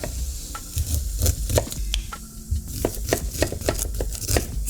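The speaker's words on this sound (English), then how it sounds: "Just cut that corn right off the cob like that." A knife slices corn kernels off the cob on a cutting board in a kitchen, a run of crisp, uneven cuts and taps close by, while something frying softly hisses beneath.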